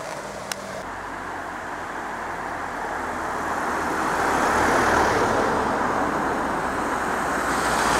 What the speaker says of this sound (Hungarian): sajnos jönnek pont az autók